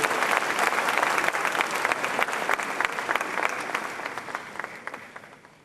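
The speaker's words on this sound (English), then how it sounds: "Shall we do a big round of applause?" Sustained applause from a lecture audience at an honorific event, dense clapping that stays strong and steady and then gradually fades toward the end, with no talk over it.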